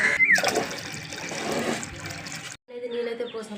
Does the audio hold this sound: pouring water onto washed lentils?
yes